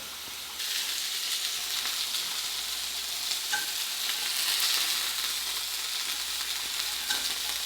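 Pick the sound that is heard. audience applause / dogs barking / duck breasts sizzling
duck breasts sizzling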